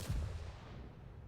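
Artillery blind firing in a team-based video game match: a single deep boom with a low rumbling tail that fades over about a second, heard alone at a moderate level.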